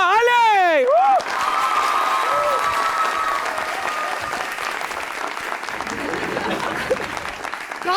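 A television studio audience breaks into loud, sustained applause with some cheering as a guest enters, following a brief sung or spoken voice at the start, the clapping continuing steadily to the end.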